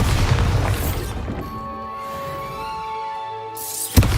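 A Bombarda blasting spell bursts against pumpkins in Hogwarts Legacy, a loud blast followed by a fading ringing tone, then a sharp pop near the end.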